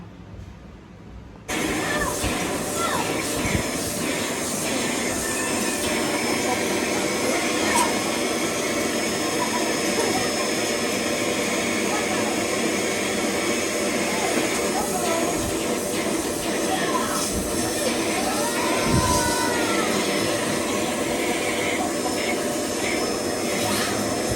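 A vacuum cleaner runs indoors at home, a steady loud whirring drone that starts abruptly after a quiet moment and holds on continuously, with faint shifts in pitch.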